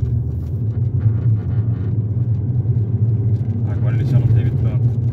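A 2013 Ford Focus 2.0 automatic accelerates uphill, with a steady low engine rumble and road noise heard from inside the cabin while people talk over it.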